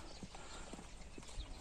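Horses for sale at a village horse market in Özgön district, Kyrgyzstan, their hooves knocking in a few faint, irregular clip-clops against quiet outdoor background.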